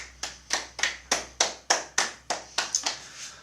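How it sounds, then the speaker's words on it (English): At a wedding celebration, guests applaud the couple with close, crisp claps in an even rhythm, about a dozen sharp strikes spaced evenly over a low background hum. "we think that you both deserve a round of applause"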